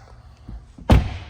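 A couple of soft taps, then a single solid slam of the driver's door of a 2022 Porsche Macan GTS, heavy and close, with a short rattle as it settles.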